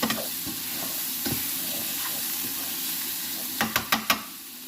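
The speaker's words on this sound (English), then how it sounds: "Pasta will be cooking away. As will our bacon and mushroom." Bacon and mushroom fry in a pan with a steady close sizzle, with a few light stirring taps early on and a quick run of sharper knocks near the end.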